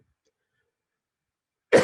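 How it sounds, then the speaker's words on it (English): A single short cough from a man with allergies, breaking into the quiet at the very end after a long stretch of near silence. "my allergies are acting up, so talking, I didn't realize this, makes me cough"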